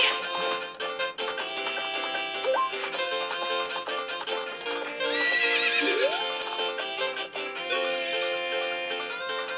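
Horse neighing and clip-clopping hoofbeats from The Legend of Zelda: Ocarina of Time, heard over steady game music with bright chiming tones, a loud close whinny near the middle and no talking.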